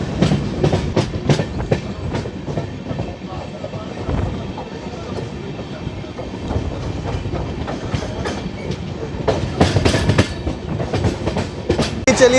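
Tamil Nadu Sampark Kranti Express running from Bhopal toward Hazrat Nizamuddin and crossing from the third line to the middle line, with a continuous rumble and clickety-clack of wheels over rail joints, growing louder toward the end.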